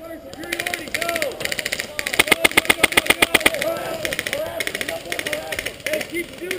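Airsoft guns firing during an outdoor game at Ballahack Airsoft, sharp rapid bursts of full-auto clicks, loud and close, mixed with shouting players.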